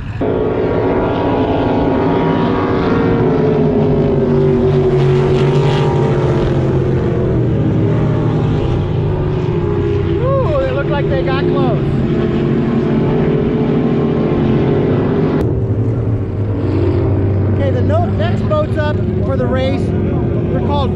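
Wooden cracker box racing boats with a little fiberglass run at a boat race. A loud, steady engine roar goes on throughout with rising and falling pitch sweeps as boats pass, and people talk over it.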